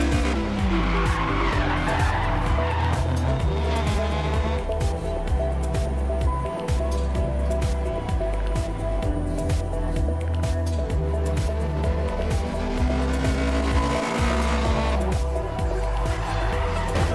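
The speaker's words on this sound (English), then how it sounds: "Just melting tire." Rally car tyres squeal and skid continuously in DiRT Rally 2.0 over a loud, revving engine, the howl rising and falling as the car slides through corners.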